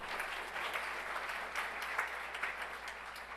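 A steady, moderately distant round of clapping rises for a student award winner at a school governing board meeting, continuous for a few seconds without speech.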